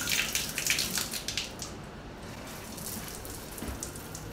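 Thin, weak stream of running water from a shower in a budget beach resort room in Vietnam, steady and faint with a soft hiss, no voices.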